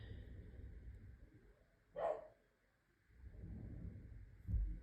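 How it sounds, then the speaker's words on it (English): A single dog bark rings out in a quiet home, faint and somewhat distant over low background rumble, followed by a low thump. "You might hear the dogs barking."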